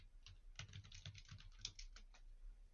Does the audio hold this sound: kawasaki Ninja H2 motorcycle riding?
no